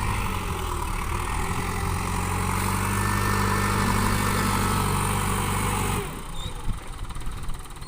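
A walk-behind tractor engine idles near a prawn pond embankment being built, a loud close steady chugging hum that cuts off abruptly near the end, leaving quieter, uneven noise; no voices.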